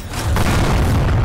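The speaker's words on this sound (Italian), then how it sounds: "Ma questo è pieno di botti che esplodono" Firecrackers go off in A Bloody Night video game as a loud, dense booming rumble that swells and holds for about a second.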